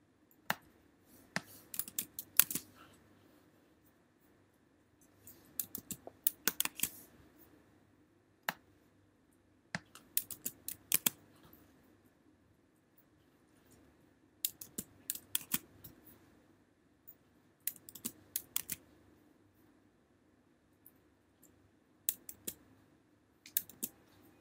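Typing on a computer keyboard while configuring software, heard as quiet, close clusters of clicking keystrokes in short bursts separated by brief pauses, with no talk.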